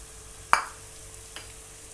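Shredded carrot and finely chopped cabbage sauté in hot oil in a pan while a utensil gives one sharp stirring clack, then a fainter scrape, over a soft, steady sizzle.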